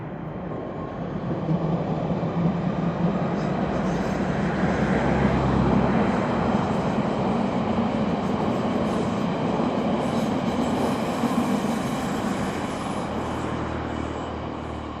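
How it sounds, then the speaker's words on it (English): A train passing on a rail line near Chigwell Row at night, a loud sustained rumble of wheels and carriages that swells and holds for several seconds, heard from close by. "We're going to see a train come here."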